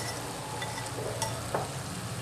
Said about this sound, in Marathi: त्याच्यामध्ये फोडणीलाच परतून घ्या